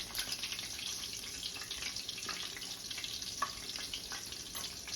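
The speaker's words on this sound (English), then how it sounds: "I'm going to pour a little extra on there." Half and half poured onto a slice of bread while making French toast, a soft steady liquid splash and trickle heard up close and alone for the whole stretch.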